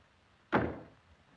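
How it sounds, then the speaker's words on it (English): A single door is shut with a dull thud, one short impact that fades quickly in a quiet room, with no voices. "Now close this door, Wally."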